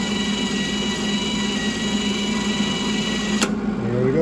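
A MIG welder's wire feed runs with the trigger held, a steady mechanical whirring hum at moderate level that stops abruptly with a click near the end.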